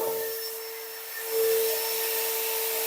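A workshop dust collector runs as a steady, loud mechanical whine and broadband rush, switched on to clean up around the shop with an extra long hose, holding an even drone throughout with a brief swell partway through.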